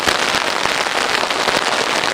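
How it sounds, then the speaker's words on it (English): Heavy torrential rain pours down during a storm, a dense, loud, steady hiss of drops hammering surfaces with no letup, no voices. "Now we finally got our torrential downpour."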